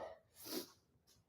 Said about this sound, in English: this time of a year in Tennessee when things are blooming, it makes you sneeze some